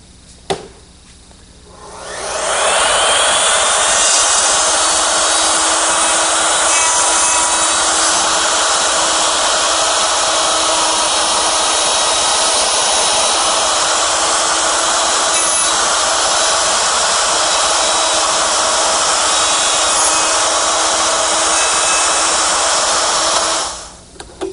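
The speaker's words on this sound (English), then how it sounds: "it works with my router, which is set up with a collar and a dovetailing bit." A router fitted with a collar and a dovetailing bit cuts dovetails in wood. A loud, steady high whine spins up, holds for about twenty seconds with grinding cutting noise, then winds down.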